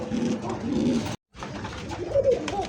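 Koka pigeons at a pigeon seller's coo in soft, low, throaty rolls, close by and fairly quiet, with a brief silent gap partway through.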